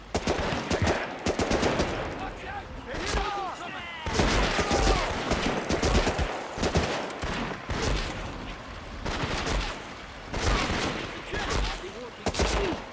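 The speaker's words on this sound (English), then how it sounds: "it's actually surprising that they show the action working when you're firing a gun" Gunfire in Medal of Honor Rising Sun: repeated bursts of rapid automatic shots and single cracks, loud and close, coming in clusters across the scene with brief pauses between volleys.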